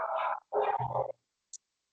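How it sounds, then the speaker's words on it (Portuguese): Dogs barking in the background, two muffled, mid-distance bark bursts separated by a pause, followed by a brief faint high chirp, with no talk over them. "o nosso plano de fundo aqui, esses cachorros latindo, que delícia"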